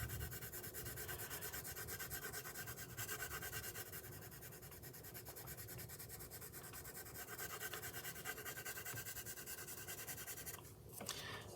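Artist's Loft colored pencil rubbing steadily on paper while blending yellow over orange, a faint, close, continuous scratchy whisper of light strokes with no voices.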